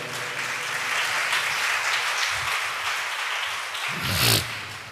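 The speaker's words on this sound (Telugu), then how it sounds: "గట్టిగా చప్పట్లు కూడదా?" A church congregation at a Sunday worship service claps loudly and steadily the whole time, with a brief louder swell near the end.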